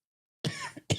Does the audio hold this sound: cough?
yes